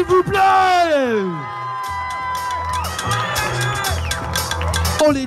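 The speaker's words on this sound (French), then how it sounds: "Applaudir bien fort, s'il vous plaît." Crowd cheering, whooping and shouting at a beatbox battle, the No Bottle Battle 2021 2vs2 quarter-final, loud and sustained throughout, with a host's voice talking over the noise.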